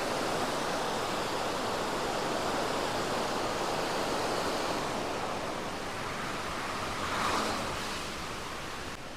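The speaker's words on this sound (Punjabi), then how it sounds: "ਜਿਹੜੇ ਹਿਸਾਬ ਨਾਲ ਦਰਿਆ ਦਾ ਬਹਾ ਹੈ ਪਾਣੀ ਬਹੁਤ ਤੇਜ਼ ਹੈ" A fast-flowing mountain river swollen by heavy rain in the Himalayan hills rushes with a dense, steady roar, close and continuous with no voices.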